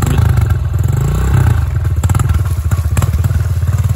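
Motocross dirt bike on a home cross track, engine loud and close, revving in short repeated blips of throttle with clattering and thuds from the chassis, no talk.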